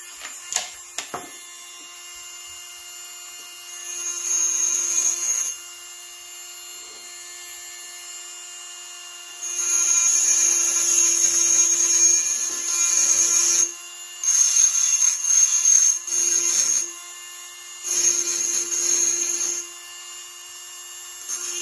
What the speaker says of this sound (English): I'll get you a minute of grinding on this.